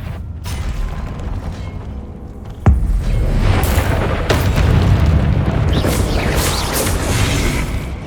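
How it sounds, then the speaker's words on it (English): Incendio fire spell cast in Hogwarts Legacy, a sudden loud magical boom with a sharp attack, followed by a sustained roaring, crackling rumble over game ambience. "Incendio!"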